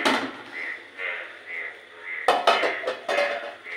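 A metal cooking pot readied as a lid while making kacchi biryani, giving a few close clanks and scrapes that come in separate bursts, loudest near the end.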